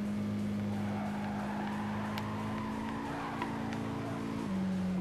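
In Gran Turismo 5, a Toyota Trueno's tires screech in a sustained skid under long braking, layered over a steady engine drone that drops in pitch near the end, with no voices.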